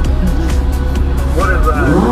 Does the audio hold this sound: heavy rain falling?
no